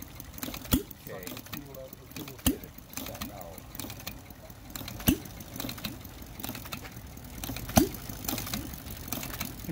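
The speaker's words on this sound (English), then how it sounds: "This is a 10 cycle engine." A small ten-cycle engine, running with a turbo, runs steadily with a low mechanical chug, marked by a few sharp clicks or pops, while a voice talks intermittently over it.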